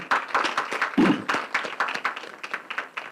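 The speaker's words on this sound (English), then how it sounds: "they also deserve a real round of applause" Audience applause at a university convocation ceremony, scattered claps with a brief low thump near the start, moderately loud and steady over about three seconds.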